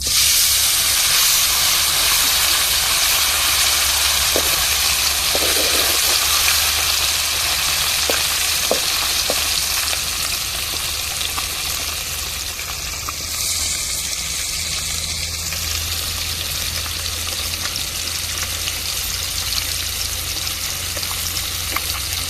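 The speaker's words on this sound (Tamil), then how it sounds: "எண்ணெய் சூடேறிட்டு இப்போ நாங்கள் பொடியை போட்டு விரைவி வச்ச மீனை இப்போ பொறிச்சு எடுத்துக்கிடுவோம்" Spice-coated sardines frying in hot oil, a loud, dense, continuous hiss and crackle that barely changes, with a few faint clicks early on and no one speaking.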